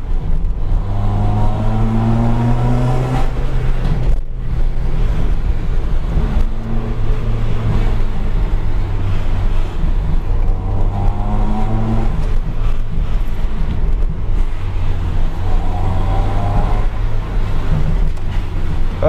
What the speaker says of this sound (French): c'est le bruit du moteur, vous entendez.